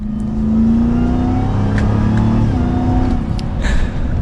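A supercharged 2022 Ram TRX 1500 pickup accelerating gently, its engine note rising steadily and loud and close throughout, with no talking.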